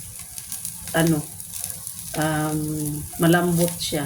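Meat is pan fried until browned, giving a steady low sizzle under someone speaking Filipino in separate phrases.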